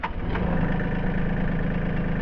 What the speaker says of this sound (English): I'll start the tractor up